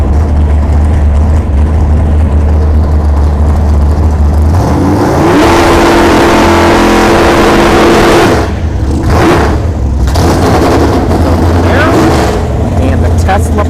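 A Chevrolet Camaro drag car revs and launches down the ShowTime Dragstrip during test and tune, its engine loud and close over steady crowd noise, with people talking nearby.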